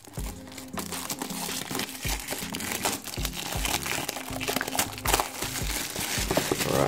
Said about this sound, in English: So I have like a knife, an X-Acto knife, and yeah, it's gonna pry it open.